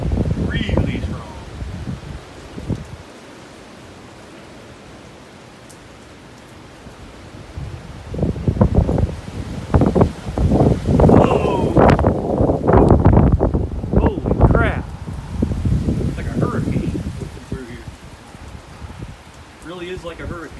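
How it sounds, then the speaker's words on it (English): Strong gusts roar during a severe thunderstorm, building from a steady rush into loud, buffeting blasts with rustling leaves and wind noise on the microphone, while a voice speaks now and then. "Man, that wind's strong."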